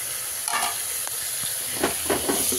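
Grated coconut fries in a pan for chicken curry, a soft continuous sizzle broken by a few scraping stirs, fairly close and quiet, with no voices.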